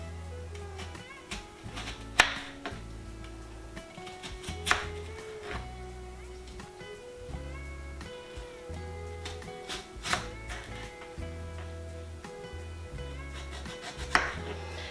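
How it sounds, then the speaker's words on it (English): A knife slices green tomatoes on a board, trimming the bottoms flat. Sparse, sharp cuts land every few seconds, some louder than others, over soft background music. "I'll just slice the bottom off to make it easier to sit level in the pan"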